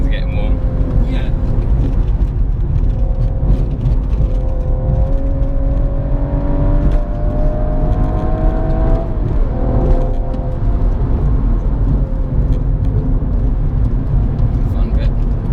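A BMW M135i lapping a track at a charity event on an airfield circuit, its engine droning steadily with rising and falling revs throughout, loud and close from inside the cabin, with people talking over it.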